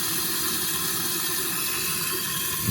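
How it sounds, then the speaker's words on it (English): Water blasts steadily down into a toilet bowl, a loud, even rushing flow close by that runs without a break. "Water, man. Blasting right down there."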